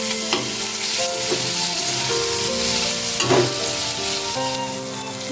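Chopped tomatoes hit a hot frying pan for a dry, spicy Bombay duck fish dish, giving a steady, close sizzle with light stirring clatter throughout.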